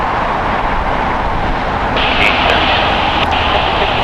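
An airliner's jet engines roar steadily during takeoff at LAX, a loud continuous rumble with a rising whine partway through.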